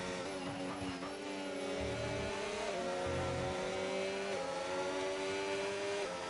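Formula 1 race cars in a racing video game at Imola, engines whining at high pitch as several cars drive past in a steady, overlapping drone with rising and falling revs.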